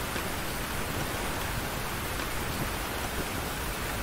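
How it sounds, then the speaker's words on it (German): Heavy downpour in the video game Tchia, a dense, steady hiss of rain filling the whole clip at an even level with no breaks or voices. "Im dicksten Regen"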